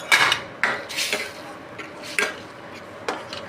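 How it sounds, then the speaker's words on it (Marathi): A spoon stirring a lentil and tomato varan mixture in a metal pot, giving a few close clinks and scrapes at an irregular rhythm, with faint background noise. "टोमॅटो परतल्यानंतर हे मिश्रण यात मिक्स करून घ्यायचं आहे, ते व्यवस्थित हलवून घ्यायचं आहे"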